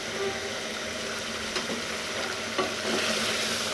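Chicken karahi with turmeric and garam masala sizzles steadily in a pan while being stirred, a close continuous frying hiss with a couple of soft scraping knocks from the spoon.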